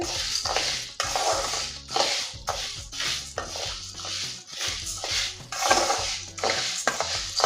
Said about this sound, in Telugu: ఈ పెసరపప్పుని దోరగా వేయించుకోవాలండి.